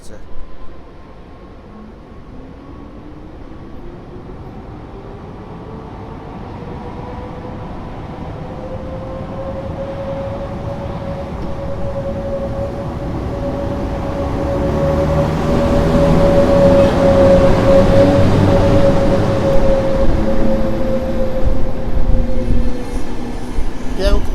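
An eight-car Intercity passenger train pulls out of Warszawa Gdańska station, its low rumble and a rising tonal whine swelling steadily louder as it gathers speed nearby.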